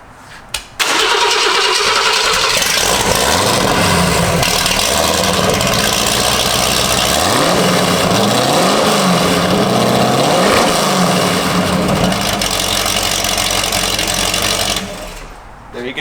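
A 1968 Shelby GT500KR V8, freshly retimed with old-style points in the distributor, rumbles loudly at idle with several rising and falling revs, a deep throaty engine note running nearly continuously before dropping off at the end.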